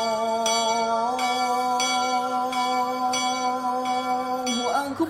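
The bell of a Catholic church in Kampung Sawah strikes repeatedly at a steady, unhurried pace, ringing over a sustained droning tone throughout.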